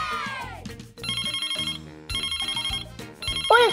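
A telephone ringtone from a children's doctor video game plays a bright, repeating electronic melody in several loud, even phrases with short gaps between them.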